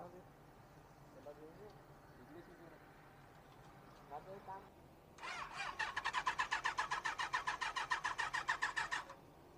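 A Benelli 600i motorcycle that had stalled after its engine overheated cranks and fires up, its loud, rapid, pulsing exhaust beat settling into a steady idle after quiet talk nearby.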